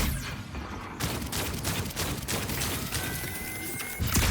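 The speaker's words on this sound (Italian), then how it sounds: "C'è qualcuno che ci spara" Enemy gunfire in the video game Outcast: A New Beginning, a steady rattle of shots and impacts continuing throughout at moderate distance, with game ambience underneath.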